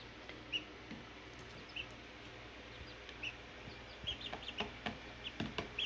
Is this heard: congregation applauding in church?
no